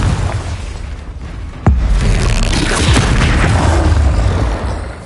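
A Confringo fire-blast spell explodes in Hogwarts Legacy with a sharp, loud boom partway through, set against a dense, rumbling battle din that holds steady and then tapers off.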